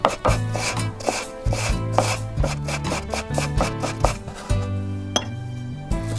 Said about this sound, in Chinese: 再切成姜末备用。